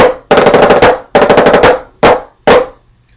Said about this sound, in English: the major phrase that you hear throughout all of assembly is just 7 7 7 flam flam